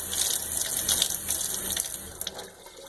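Water runs steadily from a kitchen faucet on an off-grid grey water plumbing setup, a continuous hissing splash at close range with small gurgling fluctuations toward the end and no one talking.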